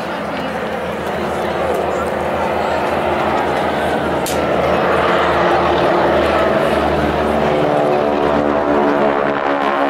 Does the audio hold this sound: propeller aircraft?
yes